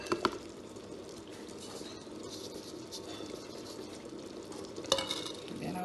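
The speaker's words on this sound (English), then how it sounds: "Then I'll stir it." Iba soup with bitter leaf stirred in a pot, giving a continuous low bubbling, scraping churn with a couple of sharper utensil knocks at the start and near the end.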